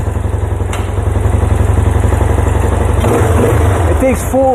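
A Yamaha Tri-Moto engine running steadily up close, a loud, even, pulsing putter that holds strong throughout, with a brief voice-like sound near the end.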